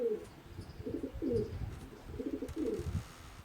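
Pigeons coo outdoors in several soft, rhythmic bursts of low, throaty calls, close by and moderately quiet, with no talking.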